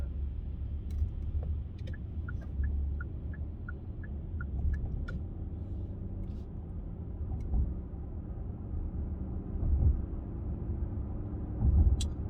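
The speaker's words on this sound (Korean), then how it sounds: "부드럽게 가속을 붙여서 이렇게 가는 게" A Hyundai Grandeur GN7 3.5 gives off a low, steady engine and road rumble from inside the cabin as it gently gathers speed, accompanied by a short series of soft chime beeps and no talking.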